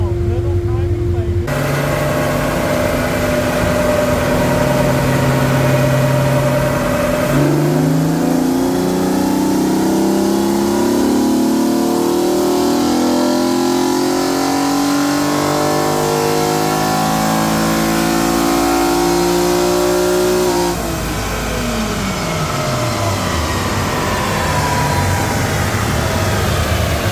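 A VR6 engine with a back-to-back tested intake manifold revs hard on a dyno, loud and sustained, its pitch climbing through long pulls and then falling away as it winds down, with voices talking over it.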